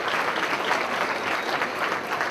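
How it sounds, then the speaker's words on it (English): Community society event audience applauding, a steady, dense wash of many hands clapping at moderate loudness, unbroken for the whole span with no talk over it. "A round of applause for both these gentlemen."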